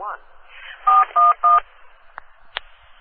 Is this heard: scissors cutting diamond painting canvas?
no